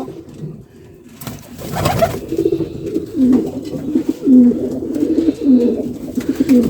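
Close, repeated low cooing from pigeons kept with their big chicks, rolling calls rising after a quieter start and continuing in steady throaty phrases.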